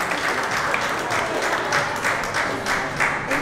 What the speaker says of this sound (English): Please give her a round of applause, ladies and gentlemen.